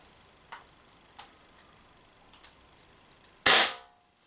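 A Umarex CO2 air gun fires several faint, sharp shots that are spaced well apart, then one much louder close shot with a brief ringing tail.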